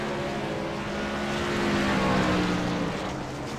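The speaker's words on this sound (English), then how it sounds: "Ah, he's in fourth. This is the high rev I've noticed." Racing truck engine in a Great Lakes Truck Series race, held at high revs in fourth gear, a loud sustained whine that swells slightly mid-way without pause.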